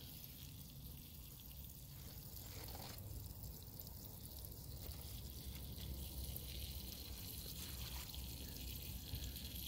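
Water runs steadily from a garden tap among container tomato plants, a faint, constant outdoor splashing hiss with no voices.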